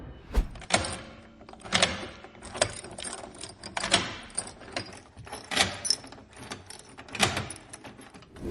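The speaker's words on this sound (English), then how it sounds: "she tried to open a locked door using different keys" Metal keys jangling and rattling against a locked door as different keys are tried, a series of irregular clinking bursts, close and fairly loud in a quiet dark space.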